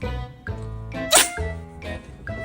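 A cat gives one sharp, explosive sneeze in the middle, set among close, voiced tonal sounds before and after it.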